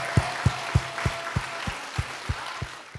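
A congregation at a charismatic prayer-mountain revival service claps in worship, about ten sharp, steady, evenly spaced claps over a soft roomy background.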